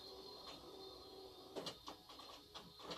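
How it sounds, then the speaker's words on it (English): A home printer starts up and runs on its own in a quiet room, giving a series of short mechanical whirs and clicks in irregular bursts, fairly faint and close, with no talking over it. "my printer is working by itself"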